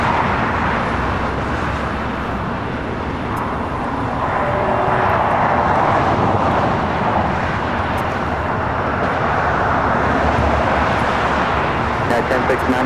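An airliner arriving on runway 25 left on the south side of LAX, a steady broad roar of jet engine noise held at an even level throughout, with talk over it.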